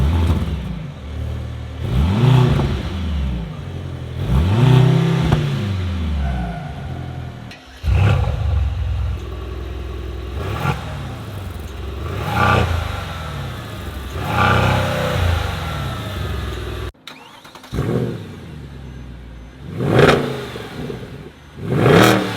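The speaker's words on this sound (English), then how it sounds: "we're gonna do a sound check right now, see which one sounded the best" Mercedes-AMG C63 cars, C63 S E-Performance, C63 S and C63 Black Series, rev in turn during a sound check, a series of loud, close revs rising and falling with brief pauses between them and no talk.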